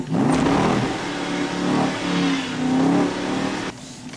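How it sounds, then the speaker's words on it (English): A Morgan car accelerates along the quarter-mile drag strip at Santa Pod Raceway, its engine a steady, loud drone with rising and falling revs throughout, cutting off sharply near the end. "I took the Morgan up the drag strip."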